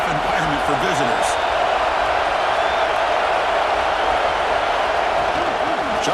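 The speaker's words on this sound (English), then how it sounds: "Listen to the crowd energy here in the early going." Stadium crowd noise in EA Sports College Football 26, a dense, steady roar of cheering fans filling the whole stretch, with a commentator's voice faintly mixed in.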